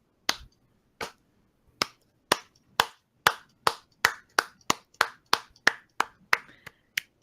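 Sharp hand claps from one person in a forest, about fifteen, starting slow and spaced, then speeding into a quicker steady rhythm, heard alone in a quiet space.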